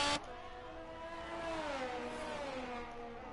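Ferrari race cars duel at the Singapore circuit in a racing game, a steady sustained engine whine with a gently shifting pitch after a brief loud burst at the start, with no voices.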